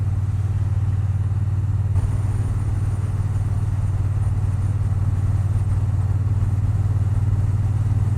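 A Triumph Bonneville T120 Black motorcycle being ridden, its engine droning steadily and loudly with a low rumble throughout, heard from on the bike with no talking.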